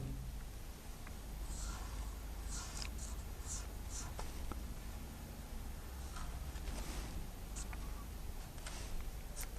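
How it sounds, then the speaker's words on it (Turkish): Marker or chalk strokes on a classroom board during a Turkish grammar lesson, a steady scratchy rasp with short brisk bursts spread across the clip over low room noise. "Onu şuraya yazalım"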